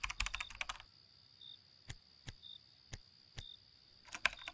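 Keyboard typing in a horror video game: a quick cluster of keystrokes, then single, widely spaced clicks about half a second apart, then another short burst. The clicks are quiet and close against a faint steady hum.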